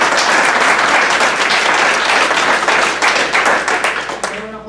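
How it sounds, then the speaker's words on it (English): An audience gives loud, sustained applause that fills the whole stretch, dense clapping from many hands before it thins and stops abruptly at the end. "I want to hold your applause because I'm going to add something else."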